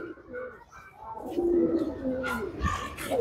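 A tournament champion pigeon cooing in low, throaty bursts while being held, with brief rustles of fluttering wings between the calls, close by.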